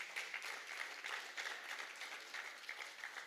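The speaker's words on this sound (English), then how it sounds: "You can give that a round of applause." Audience at a regional awards ceremony claps steadily in an even, moderately distant round of applause with no voices standing out.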